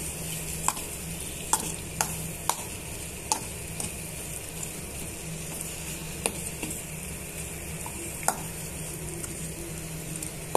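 Chicken fry being stirred and mixed in a pan, a steady sizzle of frying with sharp periodic clicks and scrapes of the spoon against the pan, close and continuous.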